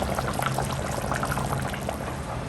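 Fish curry bubbles in an open pot, a steady close simmering burble with popping bursts, continuous and fairly loud with no talk.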